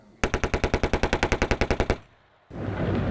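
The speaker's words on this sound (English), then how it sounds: "they watched what a machine gun would do" A war-era machine gun fires a rapid, even burst of about sixteen loud, close shots, then stops, and a rushing roar follows after a short gap.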